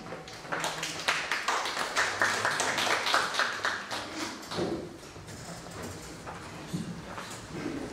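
Audience applause in a hall at a national poetry recitation contest, a broad wash of many hands clapping loudly and steadily before easing off toward the end.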